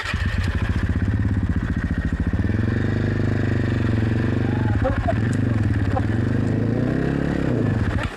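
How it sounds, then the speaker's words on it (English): Budget adventure motorcycle idling and pulling away slowly on light throttle and slipped clutch, a steady close pulsing engine rumble with gentle pitch rises, voices faint in the background. "Little bit less throttle, and then it starts to move. Keep the clutch in the same place."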